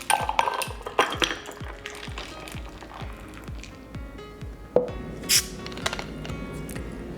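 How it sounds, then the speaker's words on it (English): A Paloma cocktail of tequila silver and simple syrup is poured into a glass, with liquid splashing and small clinks and taps of glassware and bar tools, close up and without talk. "Now I'm just gonna pour it into the glass."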